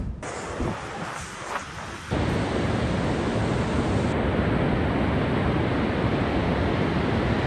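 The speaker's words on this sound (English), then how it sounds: "a little cold plunge in the San Diego Ocean" San Diego ocean surf roars close and loud in a continuous wash, growing heavier and steadier after the first couple of seconds, with no voices.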